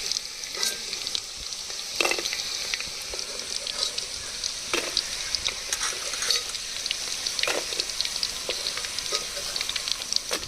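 Chicken pieces frying in hot oil in a pan while being stirred, a steady crackling sizzle broken by repeated scraping strokes of the stirring utensil at irregular intervals.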